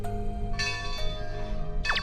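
A bell rings somewhere in a quiet, remote rural spot, its sustained ringing tones lingering faintly at a distance over a soft background.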